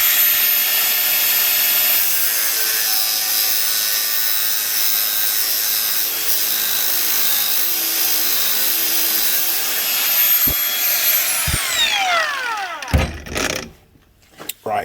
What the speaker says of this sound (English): Right, angle grinder. Okay, here goes nothing.